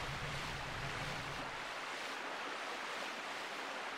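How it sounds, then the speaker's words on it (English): Rushing water pours down a stone water slide in the video game Twilight Princess, a steady broadband whoosh throughout, loud and close with no voices. "Biggest water slide."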